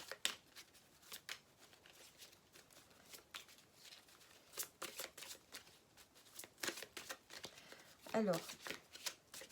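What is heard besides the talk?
shuffling and drawing oracle cards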